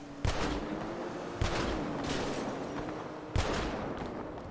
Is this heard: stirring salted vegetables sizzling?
no